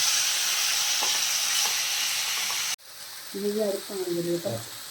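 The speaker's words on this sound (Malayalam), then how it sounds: "അതുവരെ നമുക്കൊന്ന് വഴറ്റി കൊടുക്കാം" Chicken sautés in a pan for chicken stew with a loud, continuous sizzle that cuts off abruptly midway, followed by quieter frying and a brief voice.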